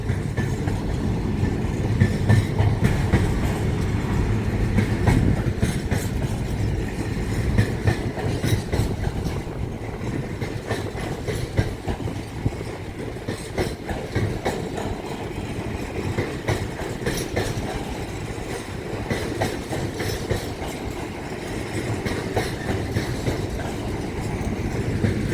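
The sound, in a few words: trains passing through Manors Station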